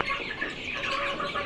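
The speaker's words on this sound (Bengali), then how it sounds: "দেখেন মুরগিগুলো খাওয়ার জন্য কিভাবে ভিড় জমাচ্ছে।" Tiger-breed chickens crowd together at feeding time, producing a dense, overlapping chorus of clucks and chirps, close and fairly loud, with no voices.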